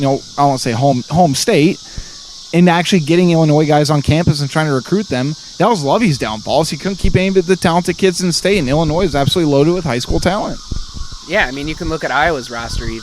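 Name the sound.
cicadas buzzing outdoors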